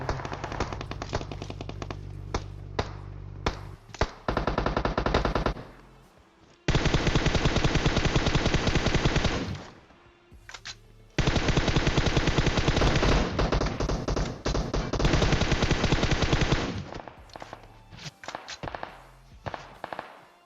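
Gunfire in the mobile battle royale game PUBG Mobile, with long loud bursts of rapid automatic fire, scattered single shots and short pauses between volleys, no talking.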